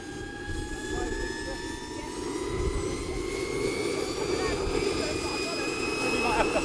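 Starter of a homemade jet pack spinning up at an outdoor model air show, a rising turbine whine with steady tonal sweeps over a broad rumbling roar, fairly loud and building throughout.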